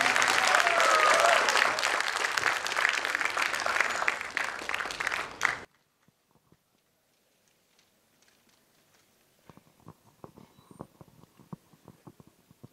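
A convocation audience applauds loudly for about five seconds, then the clapping cuts off abruptly into near-silence with faint scattered sounds afterward.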